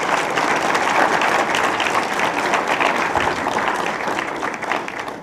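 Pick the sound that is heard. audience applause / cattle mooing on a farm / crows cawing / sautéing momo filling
audience applause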